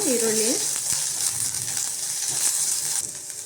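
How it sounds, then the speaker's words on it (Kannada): Sliced onion frying in a spoonful of oil in a pan for butter chicken, a steady close sizzle with a few soft stirring knocks, and a brief voice-like tone at the start. "ಒಂದು ಈರುಳ್ಳಿ ಉದ್ದಕ್ಕೆ ಕಟ್ ಮಾಡಿ ಇಟ್ಕೊಂಡಿದ್ದೀನಿ ನಾನು. ಸ್ವಲ್ಪ ಫ್ರೈ ಆಗಲಿ ಇದು"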